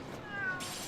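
A cat meows once in a video game, a single short, clear mew rising and falling, heard close and alone against a quiet background.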